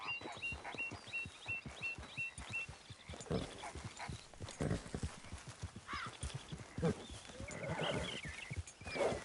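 Steady, rhythmic clip-clop of horse hooves at a trot in Red Dead Redemption 2, close and continuous, with light ambient chirps and occasional soft noises in the background.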